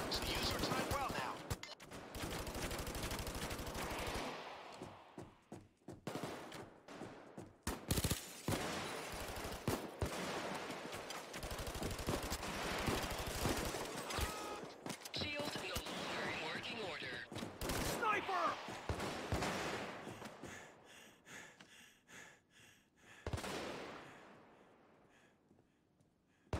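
A PayDay 2 art gallery heist gunfight with police, with heavy bursts of rifle and machine gun fire in long, loud volleys broken by short pauses, while voices shout over the shooting.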